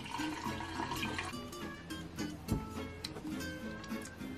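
Coffee poured into a tall handmade clay mug makes a steady, close liquid trickle and splash, continuous and fairly quiet throughout.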